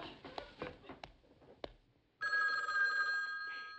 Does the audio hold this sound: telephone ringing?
yes